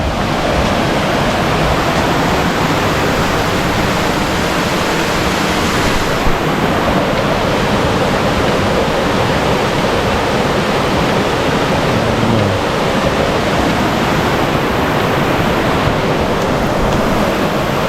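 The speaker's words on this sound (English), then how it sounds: "this river is the same river that's coming from the blue hole" Constant, loud rushing of a deep river flowing from the Blue Hole in Jamaica, a broad unbroken roar of water that holds steady throughout with no voices.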